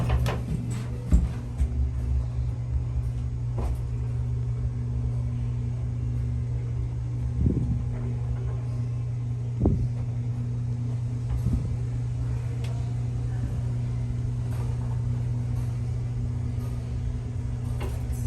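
A Waupaca hydraulic home elevator riding inside a seafood restaurant gives a steady low motor hum and rumble throughout, with a few soft clunks along the way and faint background noise.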